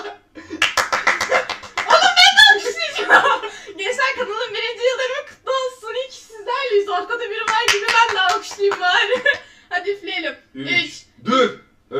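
Bursts of hand clapping mixed with laughter and chatter, irregular and close, coming in uneven clusters with short pauses.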